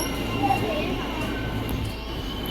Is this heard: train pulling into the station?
yes